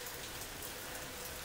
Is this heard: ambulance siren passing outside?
no